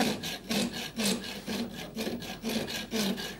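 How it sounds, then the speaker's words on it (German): A hand saw cuts through wood in quick, regular back-and-forth strokes, about three per second, close and rasping, with no talking. "Und die Säge?"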